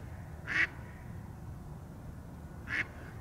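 A drake duck calls twice in spring, each a short, bright quack spaced a couple of seconds apart and heard at a distance over a low, steady background.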